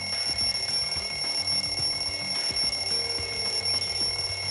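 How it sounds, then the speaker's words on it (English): A wall clock alarm rings continuously with a bright, rapid metallic trill, loud and steady throughout, with no voices over it. "The wall clock just started ringing!"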